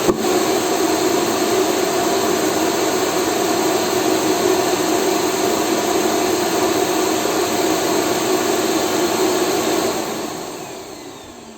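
A loud, steady suction roar from an Ultenic T10 robot vacuum's dock emptying dust runs for about ten seconds before winding down and fading out. No voices.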